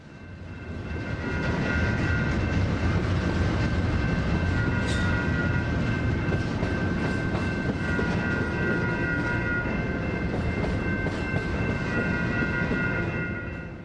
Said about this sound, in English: The train in question is a westbound loaded grain train bound for Vancouver.